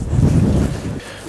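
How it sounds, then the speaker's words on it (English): Strong wind buffeting the microphone in volcanic lava fields, a loud low roar with heavy gusting that drops off briefly near the end. "If you were wondering if it really is this windy here,"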